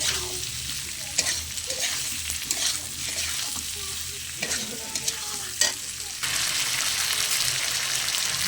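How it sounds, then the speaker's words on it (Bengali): Fried jackfruit and potato being stirred into masala in a pan, with repeated scraping and clanking strokes over a constant sizzle, after which the frying swells to a louder, steady hiss. "এবার ভেজে রাখা এঁচড় আর আলু দিয়ে দেবো। ভালো করে মশলার সঙ্গে মিশিয়ে নেব।"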